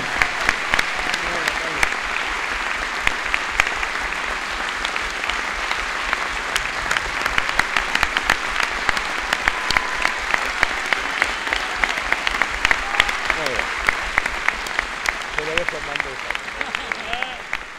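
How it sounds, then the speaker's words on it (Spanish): Audience applause at a political forum on sovereignty, a sustained broad patter of many hands clapping from a crowd, with faint voices mixed in beneath. "Carlos Pérez, un aplauso enorme"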